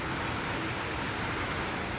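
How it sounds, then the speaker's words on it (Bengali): Steady outdoor rain during a storm, a constant broadband hiss with no distinct drops standing out, moderately loud and unbroken throughout. "তোমরা দেখো যে বাইরে কিরকম ঝড় বৃষ্টি শুরু হয়েছে"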